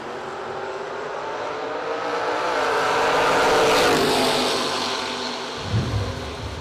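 A yellow Camaro and a pickup truck launch down a drag strip, their engines swelling into a loud roar that peaks and fades as they pass, followed by a brief low rumble.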